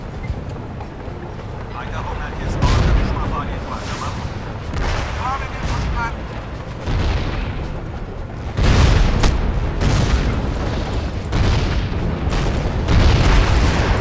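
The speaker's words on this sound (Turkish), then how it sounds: "Tamam güzel o patladı." Booming explosions and gunfire from tanks in the game Crysis rumble through a noisy battle scene, with several louder blasts rising out of continuous low roar.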